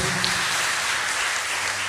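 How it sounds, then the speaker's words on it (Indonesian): A church congregation claps together, a brief, steady and fairly loud burst of applause with no voices over it. "sekali lagi berikan tepukan tangan untuk Brother Ayung."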